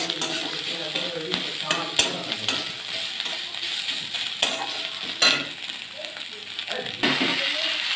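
A spoon stirs onions frying in a pan with salt and ginger paste, giving a steady sizzle broken by scraping strokes and sharp clinks against the pan.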